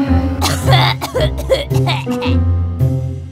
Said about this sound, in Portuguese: Ficou até tonta de tanto tossir.